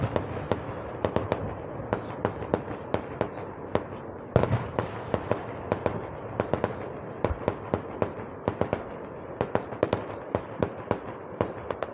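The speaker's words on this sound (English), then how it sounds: "these are some big fireworks" Big Fourth of July fireworks burst in a dense, irregular string of sharp bangs and crackles, a few louder booms standing out over a steady rumbling background, with no talking.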